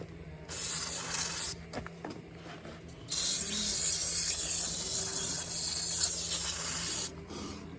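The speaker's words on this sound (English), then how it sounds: "let's spray a little carbon choke cleaner up in there" An aerosol can of carburetor and choke cleaner sprays in long hissing bursts into a Case 510 loader cylinder, a short pause between them, fairly close and loud.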